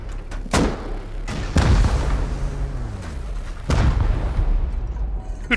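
Rocket launcher blasts against a base roof in the survival game Rust: several loud, sharp explosive booms spaced a second or two apart, each with a rumbling tail, and no talking.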